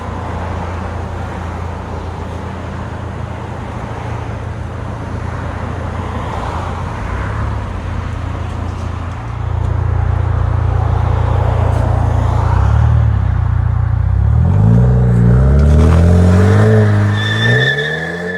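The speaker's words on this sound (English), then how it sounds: "turbo 4-cylinder muffler delete" A 2023 BMW 330i with a turbocharged four-cylinder and muffler delete rumbles loud and close, its idle swelling midway and then revving up in rising pulls toward the end.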